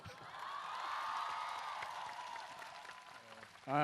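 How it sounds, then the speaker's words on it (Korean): A crowd at an outdoor memorial talk show applauds and cheers at a moderate distance, a steady wash that holds for several seconds before a sudden louder sound cuts in at the end. "박수 치시려면 제대로 치셔도 됩니다."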